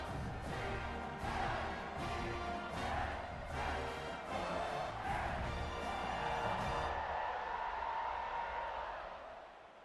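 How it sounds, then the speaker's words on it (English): Stadium crowd in EA Sports College Football 26 buzzing after a score, a dense steady roar with rhythmic swells from a chanting or band-like pulse, then thinning to a smoother murmur near the end. "this crowd is buzzing after that last score"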